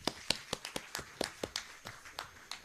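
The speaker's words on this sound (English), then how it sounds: "let us give them a round of applause" A small conference audience claps for presenters after their talks, with sparse, uneven, fairly faint claps from a few people.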